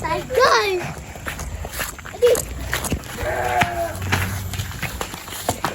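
Goats bleat in a pen amid shuffling and clattering, with people talking nearby over the animal calls.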